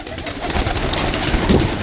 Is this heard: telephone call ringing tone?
no